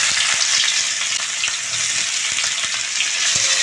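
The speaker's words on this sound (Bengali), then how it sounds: "নেড়ে নিয়ে এখন ভাজার জন্য ছেড়ে দেব।" Sliced onion sizzles steadily in hot oil left over from frying potatoes for a Bengali katla fish curry, a dense, continuous frying hiss with a few soft stirring clicks, close and loud throughout.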